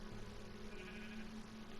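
A sheep bleats in a Minecraft farm barn, a faint sustained wavering cry with a steady tonal quality, heard alone over quiet background.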